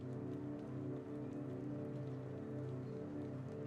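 Steady rain patters across surfaces during a scene in the video game Dispatch, a soft, even wash of drops with no voices.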